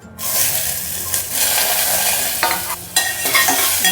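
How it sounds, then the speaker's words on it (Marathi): Onion and bay leaf sizzle in hot oil in a heated pot for Malwani chhole masala, a steady loud hiss with brief stirring scrapes and no talking. "तेल गरम झालं आहे, तमालपत्र टाकून घेऊ, नंतर कांदा टाकून घेऊ"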